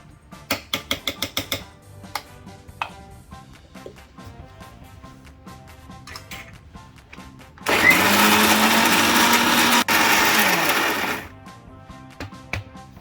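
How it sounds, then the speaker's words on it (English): A kitchen mixer grinder whirs loudly as it grinds mutton kebab paste. The steady high-pitched roar lasts about three seconds with a brief break, and quieter clicks and clatter of handling come before and after. "And again, grind it into a very fine paste."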